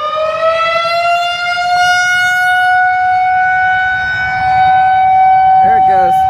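A Federal Signal 2001 tornado siren sounds during an outdoor test, a loud sustained wailing tone that holds steady for the whole stretch, with a voice speaking briefly near the end.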